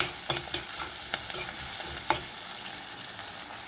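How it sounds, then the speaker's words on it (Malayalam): Ginger, garlic, green chili and curry leaves sizzling in hot oil for a date and lemon pickle, a steady close frying hiss broken by scraping stirs and light clinks, with no talking. "നമ്മൾ തയ്യാറാക്കി വെച്ചിരിക്കുന്ന ഇഞ്ചി വെളുത്തുള്ളി പച്ചമുളക് കരിയാപ്പില നമുക്ക് അവത്തിലേക്ക് ഇട്ട് ഇളക്കണം"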